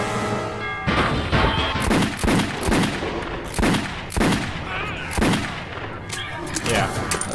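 Gunfire from the video game Metro 2033 rings out as a series of sharp, loud shots in an irregular rhythm, each with a short echoing tail over a constant low background.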